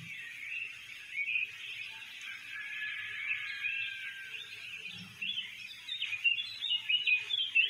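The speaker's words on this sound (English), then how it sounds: "What a beautiful environment with the bird singing." Birds singing in the Android off-road racing game Offroad 4x4 Jeep Racing Extreme 3D: a steady, bright stream of chirps and trills. It is continuous and moderately loud, with a faint low rumble beneath and no speech.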